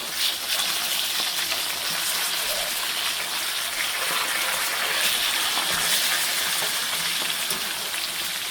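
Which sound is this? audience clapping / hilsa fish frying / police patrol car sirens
hilsa fish frying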